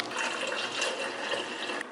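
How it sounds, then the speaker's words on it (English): Cold water pours steadily into a drink, a continuous close splashing rush that runs for the whole short stretch and stops abruptly at the end. "you add a cup of cold water to it"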